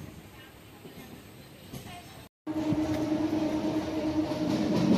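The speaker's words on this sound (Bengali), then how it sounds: "টিটাগড় স্টেশন পার হচ্ছি।" Local train travelling between Hooghly and North 24 Parganas, passing Titagarh station: a steady, moderately loud rumble of a moving carriage, with a brief dropout midway, then a louder run with a sustained tonal whine.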